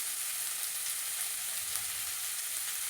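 Masala for chicken chops fries in a pan with a steady, bright sizzle, close and continuous, with a few faint stirring knocks underneath.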